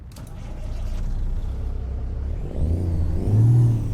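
Cummins N14 diesel engine in a Kenworth C500 truck in American Truck Simulator, cranking and starting: a whirring starter grinds into a loud, deep idle rumble that swells near the end, with no talking.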